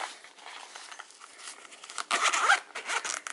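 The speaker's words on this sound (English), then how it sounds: "it's a zip opening." A zipper on a leather notebook cover is pulled open in a quick series of close, raspy zips that grow louder and denser toward the end.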